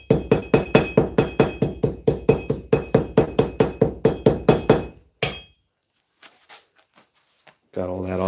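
Rapid, steady hammer blows knock slag off a freshly poured metal casting on an anvil, about twenty ringing metallic strikes in quick rhythm, then a pause with a few faint taps before a voice starts talking.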